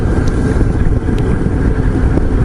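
Steady low engine rumble of a Benelli BN125 or Yamaha MT-07 motorcycle cruising at about 52 km/h, with wind buffeting over it throughout.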